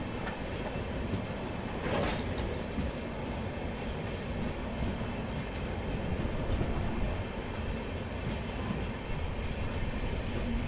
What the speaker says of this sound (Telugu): MGR చెన్నై సెంట్రల్ నుండి నాగర్సోల్ వెళ్ళే ఎక్స్ప్రెస్.